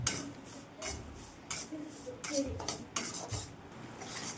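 A spoon scrapes and clinks against a pan as semolina roasts in ghee, faint and intermittent, with soft irregular metallic knocks over a quiet background.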